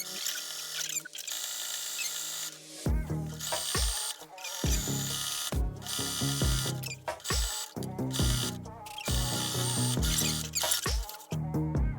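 A sewing machine stitching a fabric dog collar, running forward then reversing to lock the stitch, in several close, loud bursts of rapid mechanical whirring with brief pauses between them.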